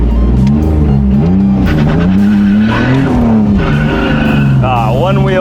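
A BMW E46 does a clutch-kick burnout, its engine revving hard and loud while the tires squeal through a long, wavering wheelspin, with voices in the cabin.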